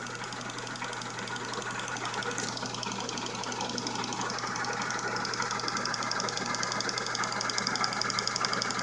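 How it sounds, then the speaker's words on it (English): A boring head on a machine enlarges a hole in metal in a shop, giving a steady, continuous mechanical whir with a faint rhythmic chatter throughout. "we're back with the boring head. Let's try giving that a try and enlarge this hole some."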